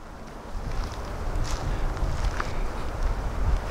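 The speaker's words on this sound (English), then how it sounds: "so it's a little windy out here." Wind gusts across an open outdoor campground by a lake, a steady loud rumbling roar of wind buffeting the microphone that swells and dips throughout, with no other clear sounds.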